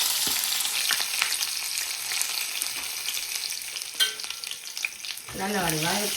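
Ingredients fry in hot oil in a pan with a dense, close sizzle and occasional stirring clicks; a brief voice-like tone rises near the end.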